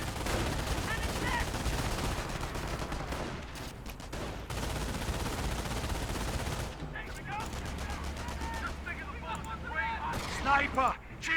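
Dense gunfire, bursts of machine-gun fire and explosions fill a Company of Heroes 1 battle between American and Wehrmacht forces, loud and nearly continuous with a brief lull, and voices speak over the combat.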